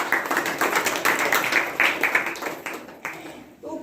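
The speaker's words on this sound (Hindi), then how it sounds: "तो सभी के लिए एक बार जोरदार ताली आप अपने लिए।" Audience at a talk on a green, clean village campaign claps for a few seconds, dense and fairly steady, then trails off as a voice begins near the end.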